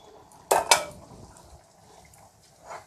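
A spoon stirs taro (arbi) pulusu curry in a pot with two sharp clanks against the metal, then soft scraping and a faint final knock, close and quiet, without talk.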